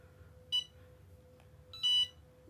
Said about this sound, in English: Gives you that audible beep to let you know